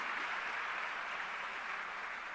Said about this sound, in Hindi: साहब सबको मिलके ताली बजानी है